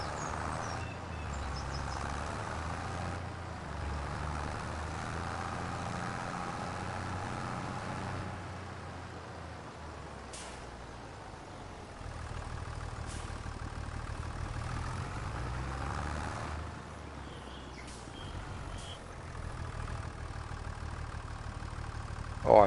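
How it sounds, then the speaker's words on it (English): A tractor engine in Farming Simulator 25 labors steadily uphill while pulling a sprayer, a continuous low drone that rises and dips slightly under load, with a few faint clicks. "this tractor barely has the power to pull this hill with that sprayer on the back"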